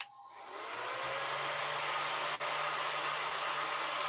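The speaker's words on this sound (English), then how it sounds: "let's get blow dryer on this thing" A blow dryer switches on and runs with a steady, loud, breathy whir that holds constant, with one brief dip partway through.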